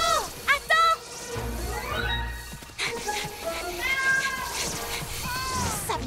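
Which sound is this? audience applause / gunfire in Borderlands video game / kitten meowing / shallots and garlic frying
kitten meowing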